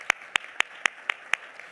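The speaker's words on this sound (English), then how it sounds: "A round of applause." A single pair of hands claps about six times in a slow, even rhythm at a mental health symposium, each clap sharp and moderately close against a quiet room.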